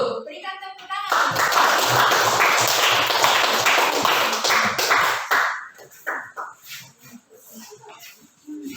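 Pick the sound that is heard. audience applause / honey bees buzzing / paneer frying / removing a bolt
audience applause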